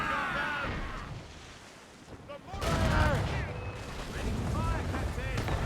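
Ship cannons firing in Assassin's Creed Rogue: a loud, dense volley of booming blasts rolls in mid-clip after a quieter stretch, with overlapping gunfire and whistling projectiles continuing to the end.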